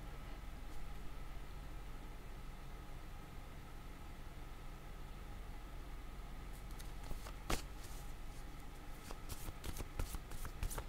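Tarot cards are shuffled in the hands, first as a soft, faint riffle under steady background hiss, then as a run of crisp, close flicks and snaps toward the end.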